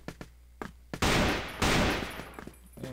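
Rapid AK rifle bursts in the video game CrossFire, with scattered single shots leading into two dense, loud volleys and a few trailing clicks and taps.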